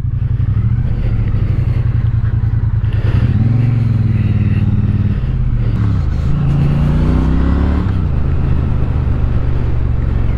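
A 2021 Triumph Bonneville T100 ridden over gravel: the engine sounds loud and close, rising and falling through revs and gear changes, with a throbbing low exhaust note throughout.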